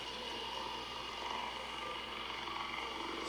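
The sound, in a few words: drone flying in video game ARC Raiders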